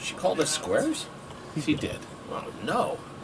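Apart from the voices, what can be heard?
None of the usual background noises is heard.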